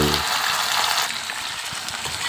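Sunflower sprouts and tempeh stir-fried with pounded chilies in a pan make a loud, continuous sizzle with scraping and tossing throughout.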